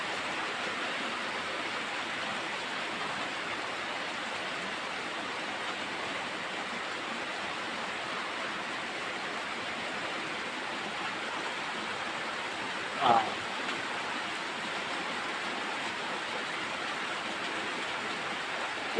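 A heavy rain downpour pounds down steadily as a constant, even hiss that does not let up, with one brief knock partway through.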